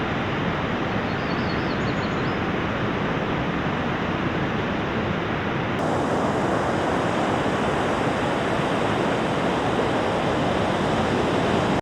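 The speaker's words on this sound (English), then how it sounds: "the BP4025 captures the sounds of waves crashing in the distance without wind noise." Distant waves crash continuously at a shoreline, picked up by an Audio-Technica BP4025 stereo microphone in a windshield; a steady, full wash of surf with no breaks, no wind buffeting and no voices.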